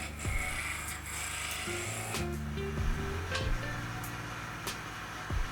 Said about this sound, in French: Passe de finition à la gouge, donc avec la lèvre gauche.